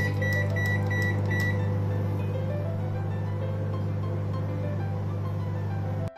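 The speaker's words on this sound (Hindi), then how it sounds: "4 मिनट के लिए हाई फ्लेम पर माइक्रोवेव करेंगे" A microwave oven hums steadily while roasting besan masala peanuts, a loud even drone with a few faint clicks near the start and an abrupt stop at the end.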